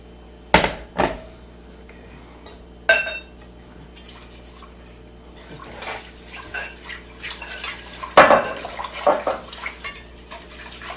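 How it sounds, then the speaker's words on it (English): A spoon clanks and scrapes inside a pot of pot roast with added water, several sharp metallic knocks followed by softer sloshing and stirring, fairly close. "Probably should stir that."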